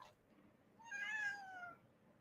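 A cat gives a single drawn-out meow lasting about a second, clear and moderately close over a faint low background hum, with no speech.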